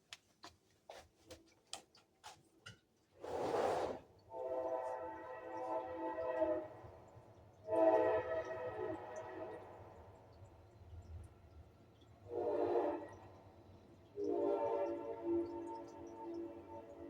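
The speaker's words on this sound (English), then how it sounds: "Here comes a train." A train passes at a distance, sounding its horn in several long blasts separated by quieter gaps, with faint rail rumble beneath and a few soft ticking clicks at the start.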